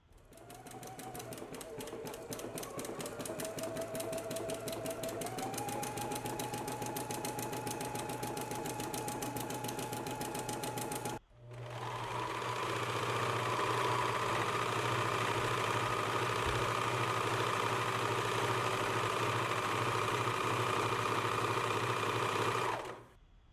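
Sewing machine zigzag stitching a dress seam from the hem, a continuous close motor hum with rapid needle clatter that pauses briefly midway, then resumes louder and steadier until stopping at the end.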